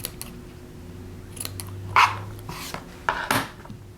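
Scissors snipping through the ends of a fabric strip cut from a throw blanket while sewing a winter hat and scarf, a few short close cuts in a quiet room.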